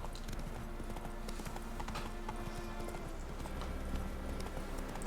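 In The Witcher 3 the horse Roach gallops with a quick, rhythmic run of hoofbeats clopping across the ground. The hoofbeats play fairly softly under the game's ambient background, and a faint snort or whinny can be heard.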